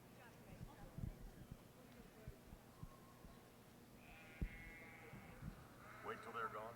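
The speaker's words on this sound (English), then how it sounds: "we're going to bring in the lambs for the Grand Champion Drive" Lambs bleat at a livestock show arena during a grand champion junior market lamb drive, faint cries rising over a busy crowd murmur with scattered hoof clatter and talk in the background.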